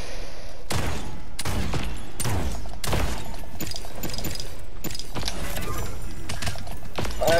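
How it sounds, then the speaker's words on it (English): Revolver gunfire in a video game, a series of loud sharp shots fired in irregular bursts amid other game noise, with players talking over them. "the revolver is nice for this"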